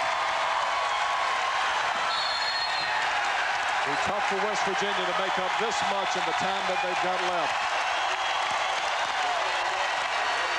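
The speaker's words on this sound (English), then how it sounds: "the crowd is starting to celebrate a little bit" Basketball arena crowd in the 1992 Atlantic 10 final, West Virginia at UMass, cheering and applauding steadily near the end of the game beneath a commentator's continuous play-by-play talk.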